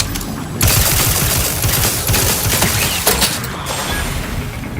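Automated turret fire during combat in The Outer Worlds 2, loud rapid bursts of sci-fi gunfire with mechanical clatter and impacts running continuously without pause.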